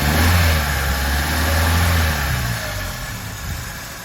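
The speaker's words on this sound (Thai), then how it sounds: "เดี๋ยวฟังเสียงเครื่องนะครับประมาณนี้นะครับ" A 1995 Toyota Corona's fuel-injected 1.6-litre 4A-FE engine runs steadily at idle with a low rumble, swelling slightly early on before settling; no talking.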